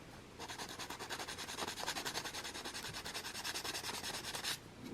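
Rough side of an abrasive sponge scrubbing a craft surface in quick, steady back-and-forth strokes, close and continuous for several seconds, with no voices.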